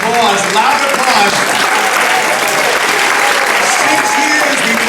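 Thick, steady applause from a large theater crowd at a Christmas benefit stage show roars without pause after a song, loud and close throughout.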